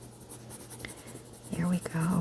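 Soft pencil strokes on paper while drawing a sunflower with a sharp tip, quiet scratchy scribbles under a speaking voice that grows louder near the end.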